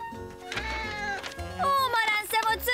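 A cartoon cat meows several times in quick succession, drawn-out tonal cries that are close and clear, with a voice talking around them.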